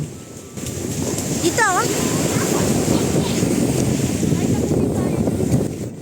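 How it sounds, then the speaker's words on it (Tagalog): Strong wind buffets the microphone on a Boracay beach, a constant roaring gust mixed with surf wash, while a person briefly says a word near the start. "Pinilter ko lang konti yung hangin dyan kasi sobrang ingay, hindi nyo na ako maintindihan."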